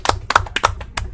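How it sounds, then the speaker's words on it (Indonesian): A few people clap for a speaker at a community gathering, several distinct sharp claps close by in an uneven rhythm, loud and without talk over them. "Tepuk tangan untuk Bang Reji."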